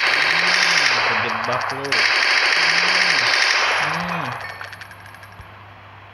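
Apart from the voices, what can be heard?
gunfire in Minecraft zombie video game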